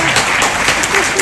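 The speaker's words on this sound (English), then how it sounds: "But yes, please clap." Steady audience applause fills a celebration event marking the ACLU of Kentucky's 70th anniversary, a dense, continuous wash of clapping from a sizable crowd, evenly loud throughout.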